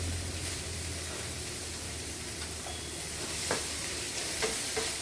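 Curry leaves hit hot oil for mutta kuruma, making a dense, steady sizzle up close with a few sharper crackles and stirring sounds near the end.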